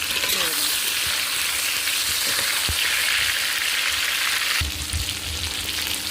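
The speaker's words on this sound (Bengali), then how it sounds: "আলু আর টমেটোটাকে ভালো করে ভেজে নিয়েছি" Potatoes and tomatoes sizzle steadily and loudly in a hot pan, with occasional scraping and knocks from stirring.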